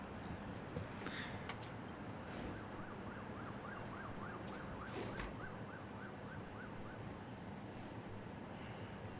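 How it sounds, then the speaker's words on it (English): An ambulance siren wails from a departing vehicle in the hospital management game Project Hospital, a steady rising-and-falling tone heard faintly and at a distance beneath windy background noise, with no talk. "there goes the ambulance"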